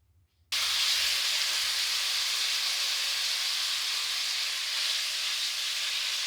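Bacon pieces sizzle loudly and steadily in a hot pan, a dense continuous hiss that starts abruptly after a brief quiet moment and carries on evenly without pause.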